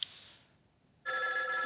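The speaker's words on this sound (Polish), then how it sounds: "Jest kolejny telefon." An incoming call rings a telephone on a Catholic radio call-in show: a short tone, a brief lull, then a loud, steady electronic ring that takes over about a second in, with no talking.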